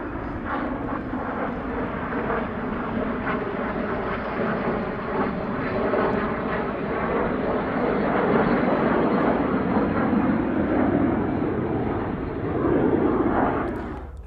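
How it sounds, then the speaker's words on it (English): An Apache attack helicopter flies rolls at the Meaux airshow, its engine and rotor giving a loud, continuous roar that swells slightly toward the end and holds steady throughout. "From the right, some very photogenic Apache rolls."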